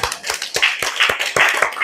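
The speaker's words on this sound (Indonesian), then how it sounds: "Kasih dulu tepuk tangan buat Bu Rega Oktaviani." A small group claps briskly at a workplace job promotion ceremony, in a quick, uneven rhythm, close by and lively, for just under two seconds.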